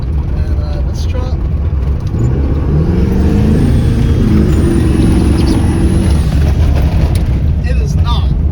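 A 1997 Ford F-250 HD pickup with a 7.3 diesel engine drives hard, a loud steady engine drone and road rumble filling the cabin, with a rising tone as it accelerates and talk over it.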